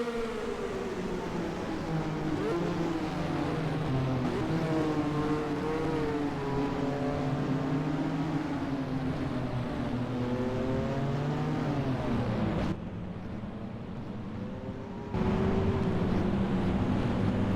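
Formula 1 race cars in the racing simulator NASCAR Racing 2003 drone loudly and continuously. Engine pitch rises and falls through gear changes, then dips sharply before the roar returns stronger near the end.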